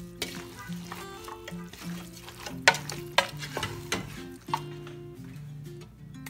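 A spiced mixture with garam masala and salt is stirred in a pan, with repeated scraping strokes and a few sharper clinks of the utensil against the pan over a low, steady background with faint tonal music.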